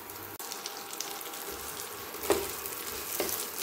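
Ghee heating in a pan for a vermicelli (semai) dish, a soft, low sizzle running steadily with a couple of faint clinks or stirs, close and fairly quiet.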